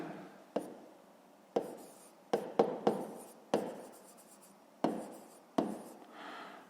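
Math is written out by hand on a board or paper in a quiet room, with sparse sharp taps and short scratchy strokes arriving one at a time, close and distinct.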